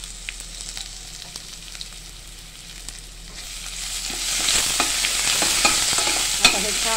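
Spice paste for kadhi sautés in a pan with turmeric and asafoetida, a soft sizzle growing louder and brighter halfway through as it is stirred, with scattered clicks of a spoon against the pan.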